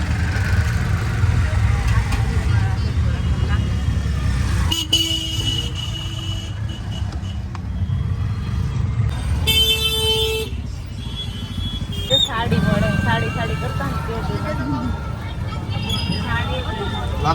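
Crowded local market street in Mathura, with engines idling and motorbikes and autos passing close by, while scattered car and scooter horns honk through a steady traffic din; voices chatter in the background.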